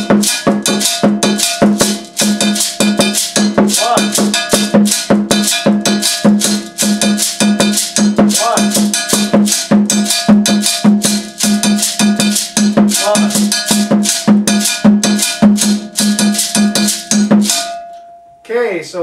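A bell plays the offbeat pattern from the kagan drum figure, a bright clanging metal tone struck in a fast steady pulse throughout, layered with other percussion, loud and close before stopping abruptly near the end.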